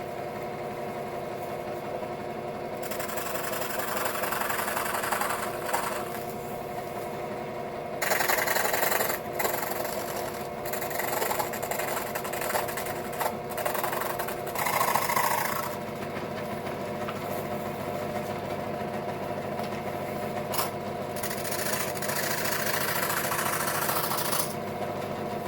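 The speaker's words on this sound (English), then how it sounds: "So I'm going to use my jigsaw to cut these guys out." A jigsaw cutting traced parts for a vintage SR-7 RC slope glider, a buzzing reciprocating drone that runs steadily for most of the clip and swells louder in several stretches as the blade bites, with no talk.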